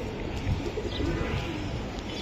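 Pigeons of Pakistani teddy and racer breeds coo softly and repeatedly in a market setting, a continuous low murmur with faint background noise and no clear talk.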